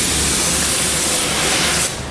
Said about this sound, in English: You can spray it right there.